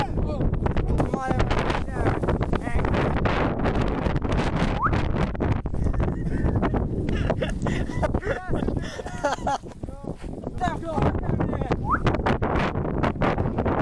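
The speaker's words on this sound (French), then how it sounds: "Il y avait juste un peu de vent." Blustery wind buffets the microphone in a constant loud roar in an open field, with people talking underneath.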